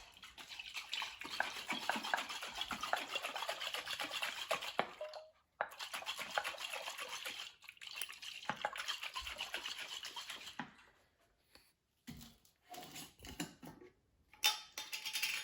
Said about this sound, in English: Make sure your lid is super tight, and you can go ahead and give this a mix.